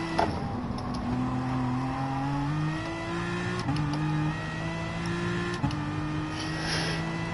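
Aston Martin engine in Gran Turismo Sport, a steady droning hum that rises in pitch through the gears with brief dips at each shift, continuous and even with no talk over it.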